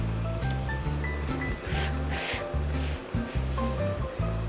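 A pressure cooker full of potatoes and water in an RV kitchen vents steam in a loud, continuous rushing hiss that runs unbroken for several seconds, with a steady low rhythmic throbbing underneath.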